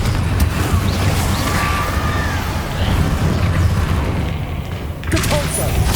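A Confringo fire-spell blast in Hogwarts Legacy gameplay makes a loud booming burst, followed by dense crackling and rumbling combat noise. Near the end a second sharp impact lands.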